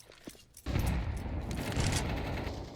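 Grenade and flashbang blasts in Counter-Strike on the Mirage map during a match: a sudden loud burst after a quiet moment, followed by a sustained rumbling roar that slowly tapers.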